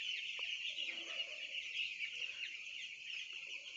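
Broiler chickens on a poultry farm make a dense, steady chorus of clucks and chirps that runs through the whole stretch at a constant level, with no voice.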